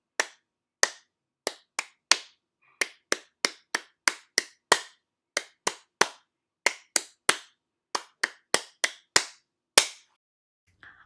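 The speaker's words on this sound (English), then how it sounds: "Can you just clap without the syllables?" Single sharp hand claps ring out one at a time in an uneven rhythmic pattern, roughly two dozen crisp, close claps separated by silence during a music rhythm lesson.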